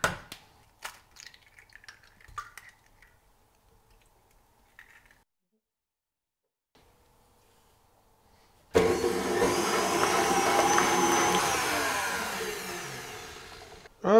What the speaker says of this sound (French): fouetter même, les œufs avec le sucre.